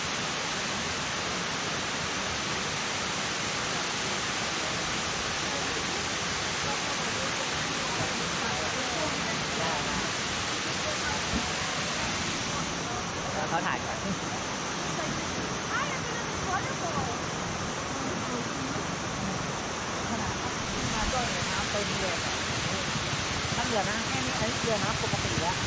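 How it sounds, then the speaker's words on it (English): Kuang Si waterfall in Laos roars as a dense, constant rush of falling water, loud and unbroken for the whole stretch, with no talking audible. "That being it by Kuang Si Waterfalls in Laos."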